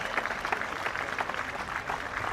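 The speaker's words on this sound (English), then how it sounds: "Wonderful round of applause from all corners of the stadium." Stadium crowd applauding at a blind football match between England and France, a steady wash of distant clapping from all around the stands, moderately loud and continuous.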